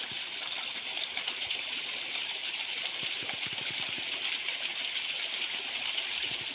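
A mountain stream and waterfall flow at a hidden cliffside spot in Nepal, giving a constant bright rushing roar with faint splashes underneath, steady and without voices.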